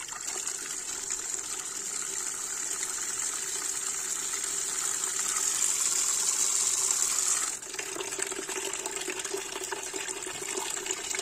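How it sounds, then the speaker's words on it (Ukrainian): Water from the tap of an Altek 24 solar collector runs steadily from a pipe into a bucket, a close, continuous hissing gush that shifts pitch abruptly near the end as the flow changes. "Ось так вода тече."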